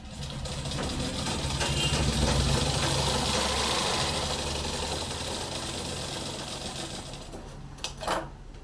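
A sewing machine stitching the sleeve of a long frock runs in a steady, close, continuous whirr, then slows and stops near the end with a couple of clicks.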